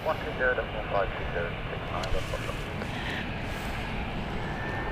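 Aircraft engines rumble at Gatwick Airport, a steady broad roar from planes holding nearby, with someone talking over it.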